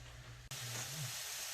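Egg roll filling cooks in a pan with a steady, close sizzle that jumps louder partway through as it is stirred, continuing as a dense hiss to the end.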